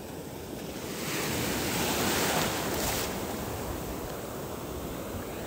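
Ocean surf breaking on a sandy beach at Kashima-nada, a broad steady wash of whitewater that swells louder for a couple of seconds and then eases into a continuous hiss, with wind rushing across the microphone.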